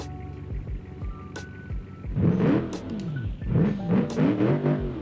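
An American muscle car engine in the video game BeamNG.drive rumbles at idle, then revs in a few throaty bursts with wavering pitch, close and fairly loud.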